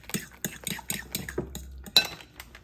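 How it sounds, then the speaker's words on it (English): A utensil scrapes and clinks quickly against a bowl as egg is mixed into cottage cheese, a brisk run of close stirring strokes with one louder knock near the end. "We're going to mix our egg in there. Just mix that around."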